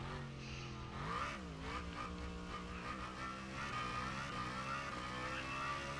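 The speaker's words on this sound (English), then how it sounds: "Don't mind me just drifting the Vector around." A Vector race car in a racing video game drifts with engine roar and squealing tires, rising and falling pitch sweeping as the car slides, loud and continuous throughout without talk.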